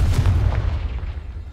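A Confringo fire spell blasts in Hogwarts Legacy, a single loud booming explosion with a deep rumbling low end that fades gradually over a second and a half, no voices.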